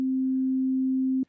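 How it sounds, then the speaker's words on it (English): A synthesized sine wave holds a single pure, steady low-mid tone at constant loudness for just over a second, then cuts off abruptly with a faint click. "we can hear we're getting that sine wave"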